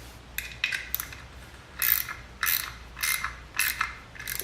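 Someone ratchets the stator bolts snug on an SSR 125 pit bike, with close, crisp bursts of clicking pawl sounds repeating in short strokes and brief pauses between them, no talk.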